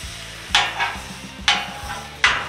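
Eggs cooking with green pepper and onions on a flat cooking surface, stirred in three distinct scraping strokes over a continuous sizzle, loud and close, no talking.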